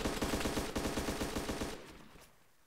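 Rapid automatic gunfire in a zombie video game, a fast even burst of shots lasting close to two seconds, loud and close, then cutting off into a fading tail with quiet background.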